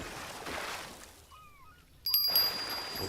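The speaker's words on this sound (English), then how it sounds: "It's our dinner bell." A dinner bell in a fishing video game rings with a bright metallic ding over a quiet outdoor ambience of trickling water, a single clear strike standing out near the end.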